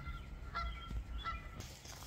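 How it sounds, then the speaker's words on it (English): Geese honk a few times from behind a barn at night, several distinct calls spaced apart, moderately distant and fairly quiet over low rumbling background noise. "Got some geese up here hanging out behind the barn at night."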